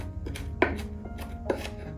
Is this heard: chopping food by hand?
yes